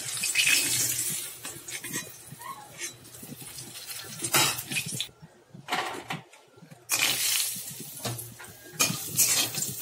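Pointed gourd (potol) pieces fry in hot oil for a Bengali suktor, crackling and sizzling in bursts, broken by spatula stirring and scraping and by brief quiet gaps.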